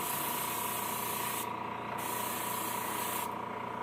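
A spray can hisses steadily while painting a fishing lure, two short pauses breaking an otherwise continuous close-up spray with a faint hum beneath.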